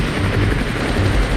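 Loud helicopter rotors thump and whir continuously in the war video game Armored Brigade 2, a close, steady chopping drone with no voices.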